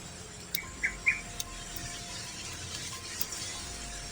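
A large bird gives a few short, chicken-like squawks, two fairly clear calls near the start and a fainter one later, heard at a distance over quiet background noise.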